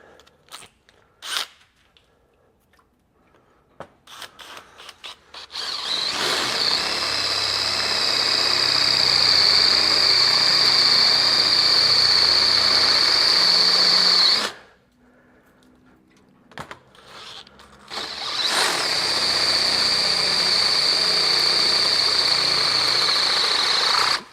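A drill bores through material with a Hercules 1/2 inch bit in two loud sustained runs, each with a steady high whine, separated by a brief pause with scattered clicks and handling noise.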